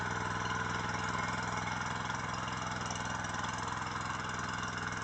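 Engine of a logging machine that drives winches and cables to secure felled trees, a steady droning mid-pitched hum running continuously without change, fairly close.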